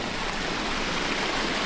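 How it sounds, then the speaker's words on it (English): A creek runs beside a campsite in California, giving a steady close broadband rush of flowing water with no pauses or voices. "Here's the creek."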